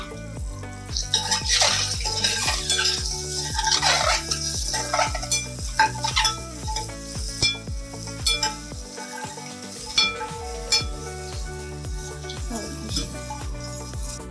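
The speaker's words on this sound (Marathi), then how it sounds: "हे आपण मॅरिनेट केलेले अंडी आहेत त्याच्यामध्ये थोडीशी फ्राय करून घ्यायची तेलामध्ये" Marinated eggs fry briefly in oil in a pan for egg biryani, sizzling and crackling while being stirred, with spoon scrapes and clinks standing out near and fairly loud, and a short pause partway through.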